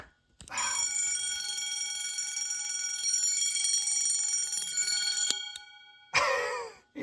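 A pocket-watch-style alarm stopwatch rings in a long, bright, buzzing metallic trill for about five seconds before cutting off, followed by a short handling rustle close to the microphone.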